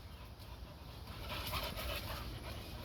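Red working pit bull puppies whimpering and panting softly, a faint, steady close-up sound with no talk over it.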